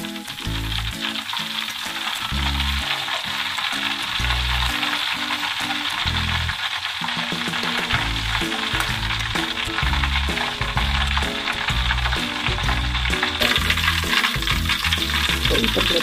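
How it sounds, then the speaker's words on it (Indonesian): Oil sizzles and crackles loudly and continuously as chicken deep-fries in a second frying, with a rhythmic low clanking from utensils or a machine underneath. "Ada lagi proses goreng kedua."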